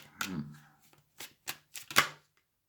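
Tarot cards being shuffled and drawn during a Ten of Wands clarifier reading: a few sharp, papery riffles and snaps in short separate bursts, close and moderately loud, with no talking.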